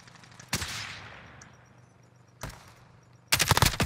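Gunfire in the video game Call of Duty: Modern Warfare: a single sharp shot rings out and decays, a second shot follows, then a rapid automatic burst closes the stretch over a quiet background.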